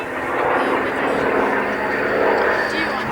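Hawker Sea Fury with its big Bristol Centaurus radial engine making an airshow flypast at RAF Cosford, a steady loud droning roar throughout, with someone speaking over it.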